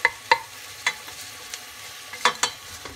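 A utensil stirs pepper into creamy white sauce pasta in a pan, making sharp clinks and scrapes against the metal at an uneven pace over a faint sizzle, with no one talking.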